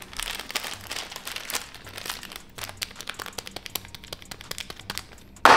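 Plastic packaging from a PC hardware unboxing crinkles and crackles in quick irregular bursts close up, busy at first then thinning into scattered crunches, ending with a loud rustle; no talking.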